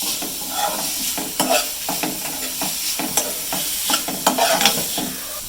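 Crushed bird's eye chillies fry with shallots and onions in hot oil for a jackfruit seed roast. A constant close sizzle runs under frequent, irregular scraping and clinking stirs.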